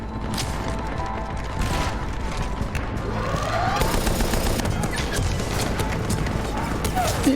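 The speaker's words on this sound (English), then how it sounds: "these cannons, I think it's more of a Gatling gun" A Gatling gun fires in the video game Mass Effect 3, its rapid bursts dense and loud amid other game noise, with a voice talking over it.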